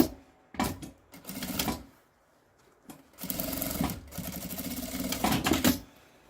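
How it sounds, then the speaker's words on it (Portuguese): A sewing machine stitches a seam through a cut milk carton in short bursts, rapid mechanical whirring starting and stopping several times with brief quiet gaps between runs. "passa uma costura com um pé de máquina"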